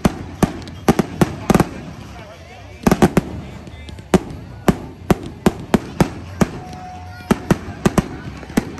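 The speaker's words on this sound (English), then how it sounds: "you can see these fireworks as well from the Rockaway Peninsula" Sharp fireworks bangs go off over Coney Island, Brooklyn, on a summer night in an irregular series, some in quick pairs, with crackling and rumbling between and voices faintly in the background.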